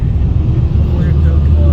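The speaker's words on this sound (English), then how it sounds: "Rush hour traffic." Rush hour traffic in Puerto Plata, Dominican Republic: a loud, close, steady engine rumble of vehicles filling the street, with no clear gaps.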